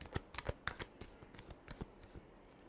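A deck of tarot cards shuffled close up in a rapid series of crisp, papery slaps and flicks, fairly quiet and steady, with no voices.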